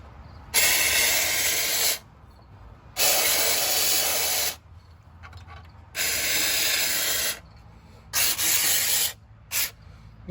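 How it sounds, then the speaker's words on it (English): Several long bursts of aerosol spray hissing close by onto a C3 Corvette's parking brake cables, each lasting a couple of seconds with short pauses between, ending with a few quick shorter bursts. "we're gonna spray it that way"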